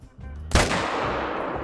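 A single sharp hunting-rifle shot in the hunting game theHunter Call of the Wild cracks out loud and close, then trails off in a long echoing tail.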